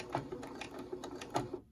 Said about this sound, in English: I'm going to start stitching on the short little end